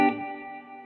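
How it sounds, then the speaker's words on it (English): A Fender 30 combo amp with its reverb turned fully up rings out as a single guitar chord, and the chord decays in a lush, lingering wash over less than a second. "now I'll turn the reverb all the way up"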